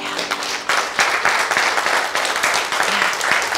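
A congregation applauds in a short, dense round of clapping that stays steady throughout, with a faint voice briefly underneath.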